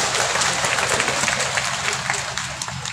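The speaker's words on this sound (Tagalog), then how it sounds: "palakpak po natin ang lahat ng mga department and agencies" An audience at a government agency gathering in Surigao del Sur breaks into dense, continuous applause, many hands clapping together in a steady wash that holds for the whole stretch.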